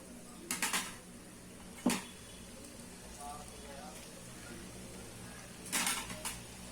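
Maida murukku dropped into hot oil in a kadai gives a few soft crackling, sizzling bursts and light clatters, quiet and close, with faint talk in between.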